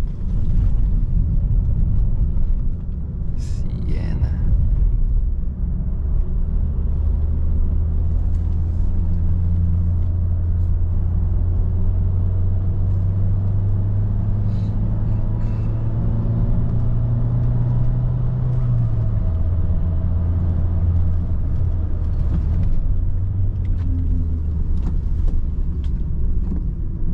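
A Nissan Townstar 1.3 Turbo manual van cruises a winding Tuscan road, its steady engine drone and road rumble swelling as revs climb, then dropping with a gear change, heard close from inside the cabin with no talk.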